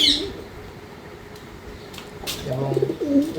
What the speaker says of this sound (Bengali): দেখুন দুটো কবুতরের ডাক দেখুন, একবার মাথা নষ্ট ডাক